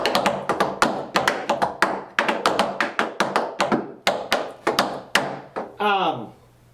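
Rapid, sharp tap strikes on a Birch portable tap floor padded with gray foam, ringing loud and close in uneven dance rhythms with brief pauses, ending in a scraping slide.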